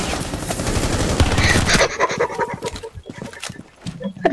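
Rapid pistol gunshots crack in quick succession during a Rainbow Six Siege match, dense and loud at first, then thinning into scattered, sharper shots and clatter.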